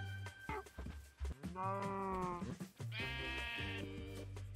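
Sheep bleating in the Minecraft video game with the Create mod, several close wavering bleats one after another, some overlapping, loud and clear with no talk.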